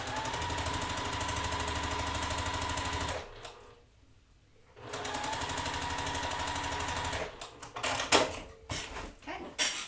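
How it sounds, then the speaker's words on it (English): A sewing machine stitches quilt seams in steady rapid bursts, running continuously, pausing briefly, then resuming in shorter uneven runs, close and fairly loud. "you want to make sure that you're sewing perpendicular to seams that you just sewn"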